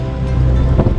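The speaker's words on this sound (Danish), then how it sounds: "Styrer mod vinden i bølger." Wind and waves rushing around a sailboat on the Atlantic Ocean during a night of squalls, a loud, continuous low roar with a brief swell of splashing near the end, no voices.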